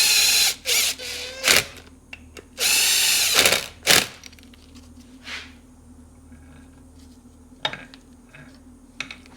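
Cordless power drill driving three stator bolts on a 2003 Ski-Doo Rev 600 snowmobile engine being rebuilt: loud close whirring bursts of about a second each, followed by quieter ticks and clicks of handling parts.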